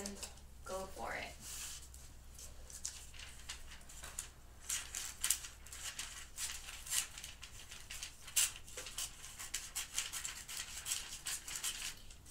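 Scissors cutting through wrapping paper while a rectangular box is wrapped as a gift, giving quiet crisp snips in a short run, under steady close talk.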